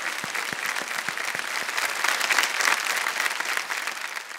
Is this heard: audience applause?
yes